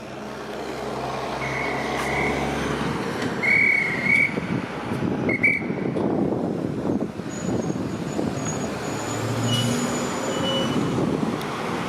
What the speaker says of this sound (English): Maybe that explains why this bus is detouring through here.